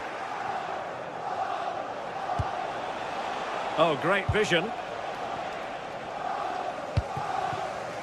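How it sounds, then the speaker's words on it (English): Crowd noise from a football video game during an Arsenal match, a steady roar of cheering and chanting that runs the whole time beneath a commentator's voice. "the crowd is certainly trying to motivate the players to get the equaliser"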